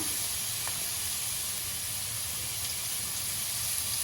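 A hot pan of chillies gives a constant loud, dense hiss as more oil goes in, steady and unbroken throughout.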